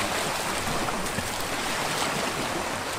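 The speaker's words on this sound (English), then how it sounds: "Those waves are getting really wavy for a river." Choppy river waves wash and churn steadily the whole time, a dense, loud, broadband rush close by during a magnet-fishing outing.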